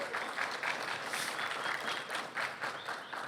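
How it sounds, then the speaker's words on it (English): Audience at a press conference on an investment in East San José applauding, a fairly faint, distant patter of many hands clapping in uneven waves. "round of applause"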